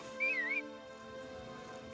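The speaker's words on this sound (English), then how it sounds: "So I'm going to stand here and whistle him." A short rising-and-falling whistle calls a horse in the Harvest Moon video game, heard over steady background game music with a lingering tone.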